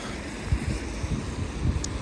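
Steady rain coming down at night in Lyon, a broad continuous wash of noise with low rumbling buffets, close and fairly loud, with no voices.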